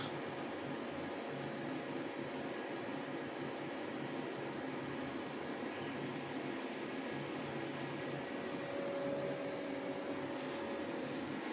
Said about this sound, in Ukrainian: Вентилятор працює в такому середньому режимі при таких навантаженнях.